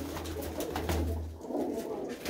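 A breeder's pigeons coo in a steady low murmur with a continuous hum and rustling, heard up close and without talk.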